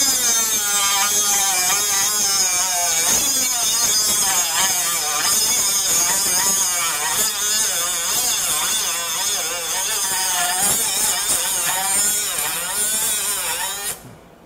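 Cordless 3-inch cut-off saw, a Ryobi HP or Milwaukee M12 model spinning around 20,000 RPM, whining loudly and steadily through a cut for about fourteen seconds before spinning down abruptly at the end.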